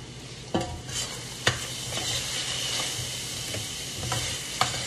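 Ground meat frying in a pan and stirred with a utensil, scrapes and clacks recurring every second or so over a steady close sizzle, no talking.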